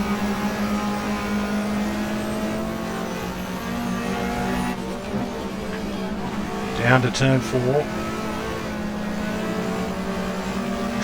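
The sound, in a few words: race car engine in the GTR2 racing video game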